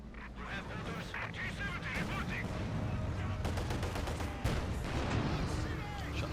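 Sustained battlefield gunfire in Company of Heroes 2, a dense wash of rifle and machine-gun shots with distant artillery thuds, continuous and moderately loud under a commentator's voice.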